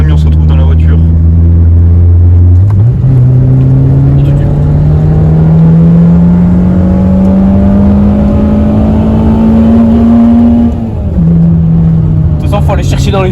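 Renault Clio 2 RS engine pulling hard from inside the car, a loud rising drone that climbs steadily through the revs, dips briefly at a gear change, then climbs again, with faint voices in the cabin.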